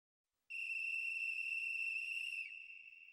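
A single steady, high, pure whistle tone from the Digimon Adventure video game holds for about two seconds, then thins and fades slightly, clear and isolated against silence.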